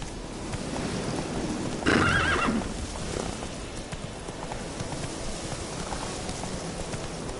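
Horse running and neighing in the Witcher 3 video game, a loud whinny bursting out over steady galloping hoofbeats, with a faint rain-like hiss underneath.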